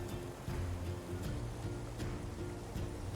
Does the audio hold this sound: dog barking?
no